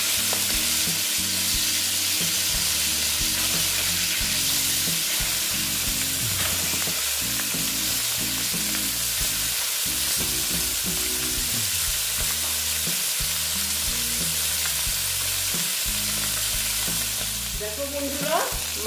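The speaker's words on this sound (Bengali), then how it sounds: "মাছটা প্রায় ভাজা হয়ে গেছে" Pomfret fish frying in a pan for a spicy jhal, with a steady loud sizzle throughout and intermittent scraping and stirring clatter, no talking.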